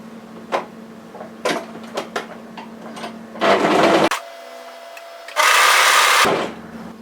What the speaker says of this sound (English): go ahead and overlock that together